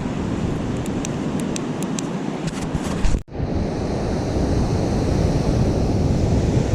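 Ocean surf washing up a beach as the tide comes in, a steady broadband roar of breaking waves with a brief dip in the middle before the wash swells back, loud and continuous with no voices.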